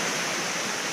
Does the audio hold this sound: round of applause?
no